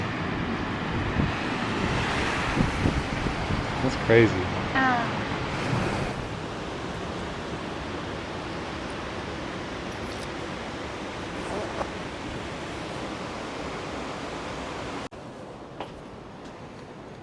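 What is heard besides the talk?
ocean waves crashing at Uluwatu cliffside beach, Bali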